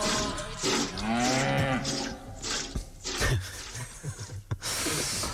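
A cow moos loudly and up close in a radio jingle, its long drawn-out low call sweeping up and down, followed by snorts, short bursts of sound and a final noisy burst.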